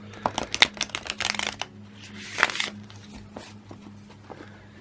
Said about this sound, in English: I am still going to rifle shuffle.